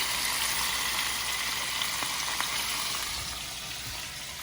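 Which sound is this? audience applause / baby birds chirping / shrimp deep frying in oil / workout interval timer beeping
shrimp deep frying in oil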